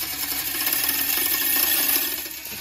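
Game feeder spinner motor running a slow test spin, giving a steady, fairly loud mechanical whir with faint rattling that holds throughout without talk.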